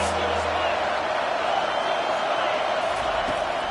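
Stadium crowd roaring in a college football video game, a dense, steady wash of cheering noise held at even loudness throughout.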